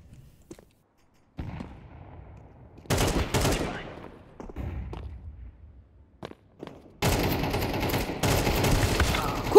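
Gunfire in the video game Counter-Strike 2 comes in sharp, loud bursts of rapid shots separated by brief quiet gaps, with a dense volley near the end.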